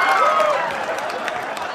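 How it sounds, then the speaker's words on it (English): Audience applause and cheering at a stand-up comedy show, a dense wash of clapping that is loud at first and then stays steady, with voices mixed into the crowd noise. "I can't believe you clapped about that."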